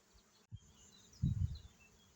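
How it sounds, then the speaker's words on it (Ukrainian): Honey bees buzzing as they work phacelia flowers, a faint low hum with one brief nearby pass that swells for about half a second before fading. "Ось так працюють бджіл, напевне, більше, ніж квітів, але їм вистачає."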